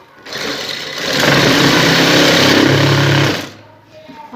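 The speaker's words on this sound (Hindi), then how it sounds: "सीधी वाली साइड रखेंगे और किनारे पे सिलाई लगाएंगे" A sewing machine runs one continuous stitching burst along the edge of a shalwar cuff backed with a paper strip. The motor whirs up and then cuts off, close and loud.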